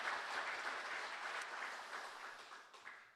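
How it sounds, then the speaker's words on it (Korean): Worshippers at a Holy Week evening prayer service give a brief round of applause, steady many-handed clapping that gradually thins out over a few seconds. "감사의 박수 한번 드릴까요?"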